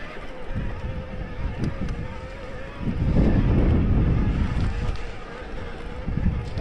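Strong wind buffets the microphone during an e-bike mountain ride, a rough, rumbling roar that swells in the middle and gusts unevenly throughout.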